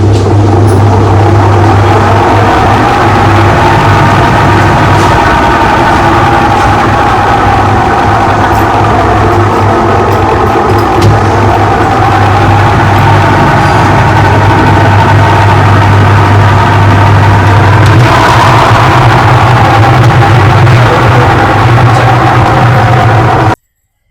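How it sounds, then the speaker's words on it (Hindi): A Whirlpool top-loading washing machine spins with a faulty gearbox, giving a loud, steady low-pitched droning hum that runs on nearly unchanged, shifting pitch slightly partway through, with no one talking. "वॉशिंग मशीन को ऑन किया है और इसको ड्रायर मोड पे रखा है।"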